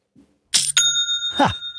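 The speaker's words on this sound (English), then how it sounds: "that's a notification that I like these days because that's the sound of another sale on Shopify" Shopify sale notification, a bright bell-like chime with a short ringing tone that sustains, then a second struck chime, close and clear over silence.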